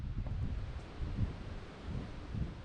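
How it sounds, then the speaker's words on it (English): Steady gusting wind near the Rhone River in Arles, France, buffets the microphone with low rumbling noise, rising and falling in strength throughout. "It was really windy at this time of day"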